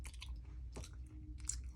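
Crunchy fried mochi being chewed up close, with a few crisp bites and mouth crunches at a steady pace, no talking.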